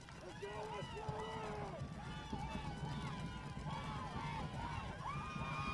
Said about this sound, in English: As you can hear, the crowd energized here